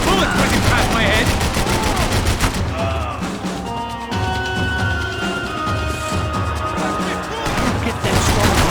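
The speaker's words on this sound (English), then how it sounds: "I can't concentrate with bullets whizzing past my head" Max Payne 3 gunfight with dense, loud bursts of automatic gunfire and rattling shots, brief lulls where bullets zip past, then heavy firing again, with voices shouting over the chaos.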